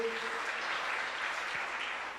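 Audience at a Jain religious gathering claps in a soft, distant patter that stays even and continuous, with a faint voice lingering at the very start.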